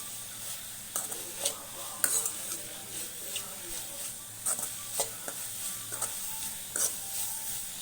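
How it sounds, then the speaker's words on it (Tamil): Spices such as cinnamon and cloves sizzle in a pan for semiya kichadi, with a steady frying hiss under repeated scrapes and clinks of a spoon stirring against the metal. "பட்டை கிராம்பு எல்லாம் போட்டு நல்லா வதக்கிட்டு"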